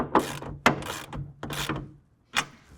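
A nylock nut is tightened onto the mounting bolt of a TruXedo Lo Pro soft roll-up tonneau cover on a 2025 Ram pickup, giving quiet ratcheting clicks in short bursts with a pause before the last one.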